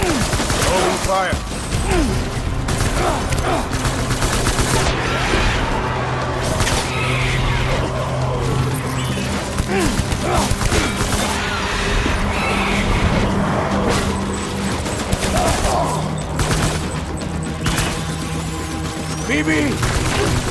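Gunfire in the video game Death Stranding, rapid bursts of shots crackling continuously amid engine rumble, explosions and chaotic combat noise, dense and loud throughout, with voices shouting over the fight.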